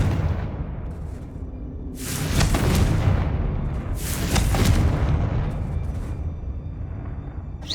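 Confringo blasting spell from Hogwarts Legacy erupting in two loud, booming explosions a couple of seconds apart, each a broad rumbling burst that lingers before fading, over a steady low background rumble.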